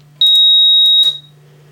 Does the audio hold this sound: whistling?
no